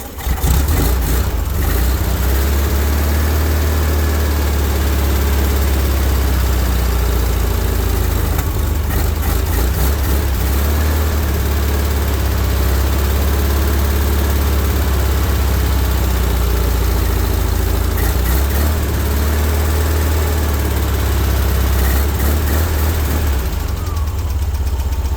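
Air-cooled VW 1600 cc engine idling after a cold start following six months sitting, fitted with a Bosch Blue Coil, a loud, close, steady low chugging idle with slight unevenness throughout.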